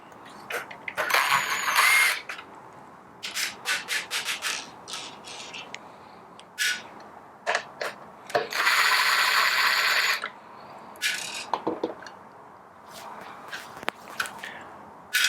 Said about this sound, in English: going to remove the 3 Phillips screws that hold the white gearbox housing to the chassis